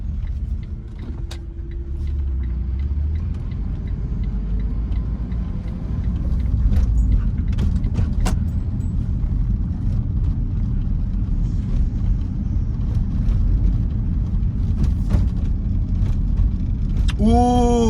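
A car drives through a residential neighborhood in Shreveport, Louisiana, turning left onto a street. The interior is filled with a steady low road rumble and engine hum, and a few faint clicks and a brief tone come near the end.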